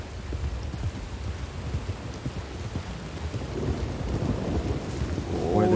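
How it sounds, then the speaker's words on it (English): Thunder and rain in a Wild West roleplay video game: a steady wash of rain runs throughout while low, rumbling thunder rolls and builds louder toward the end. "Yes, the thunder. The horses don't like the thunder."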